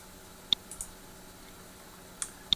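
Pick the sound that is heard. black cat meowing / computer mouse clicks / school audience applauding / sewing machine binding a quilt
computer mouse clicks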